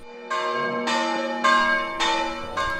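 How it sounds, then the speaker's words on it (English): A church bell strikes repeatedly at a steady rhythm, each clang ringing into the next with a long sustained hum, fairly loud and close, no voices. "the occasional clang of a nearby church bell"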